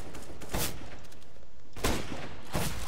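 Gunfire in the CS:GO video game comes as three loud, sharp shots spaced about a second apart, each with a brief burst of noise and no talk over them.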